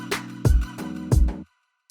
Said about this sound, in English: sounds like this with regular delay